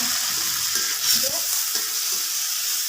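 Tomatoes frying in a pan for a vegetable gravy give a steady, close hiss of sizzling under occasional stirring scrapes, with no talking.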